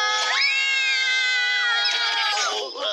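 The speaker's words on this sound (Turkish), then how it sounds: "çocukların heyecanla çığlık attığını şimdiden duyabiliyorum." Cartoon children shriek and cheer together in excited, high-pitched voices, a continuous near chorus of squeals with rising and falling pitch lasting the whole moment.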